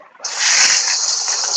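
Onions hit hot oil with a sudden loud sizzle that keeps hissing steadily, close up and with no talking.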